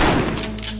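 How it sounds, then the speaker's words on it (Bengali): A single sharp, loud gunshot bursts out and decays quickly into a short echoing tail. "এটা গুলির আওয়াজ মনে হলো না?"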